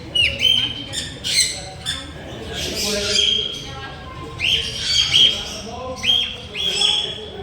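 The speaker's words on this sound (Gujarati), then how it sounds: "જો હા કલર કલરના પોપટ છે" Several harsh, shrill squawks in bursts from many colourful parrots, fairly close, with a low murmur of voices underneath.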